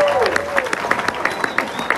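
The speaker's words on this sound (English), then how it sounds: "Clap while you're still able." Audience at a live stand-up comedy show clapping steadily over two seconds, dense applause with some sharper individual claps, fairly close and moderately loud, with a faint voice underneath.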